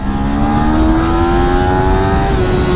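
Yamaha R3 or Kawasaki Ninja 400 motorcycle revving hard in first gear toward 12,500 RPM, a loud, close, continuous engine whine climbing steadily in pitch.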